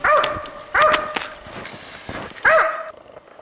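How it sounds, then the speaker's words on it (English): A hunting dog barks at a sable with a strong, ringing voice: three loud, close barks spaced about a second apart, with softer yelps and rustling in between. "A good dog has a strong ringing bark it carries well"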